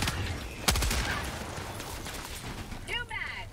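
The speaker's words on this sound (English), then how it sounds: "I didn't know these grenades actually explode if you keep it in your hands" A grenade goes off in a Helldivers 2 player's hand, one loud blast with a sharp broadband crack near the start, then a scatter of game effects and rumble while players talk.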